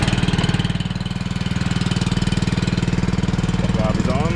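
A small engine driving a firefighting trailer pump runs steadily nearby, a fast even chugging pulse with a loud low rumble throughout.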